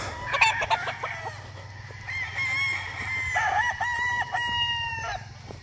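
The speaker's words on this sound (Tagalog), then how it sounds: "Yung mga manok natin dito." Roosters on a game farm crow in several drawn-out calls with short clucks between them, close and clear over a low steady background hum.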